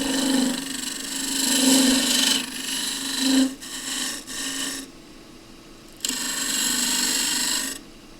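A half-inch gouge peels end-grain wood on a lathe while a box is being roughed out, giving a steady rasping, scraping hiss in long passes broken by short pauses, close and fairly loud.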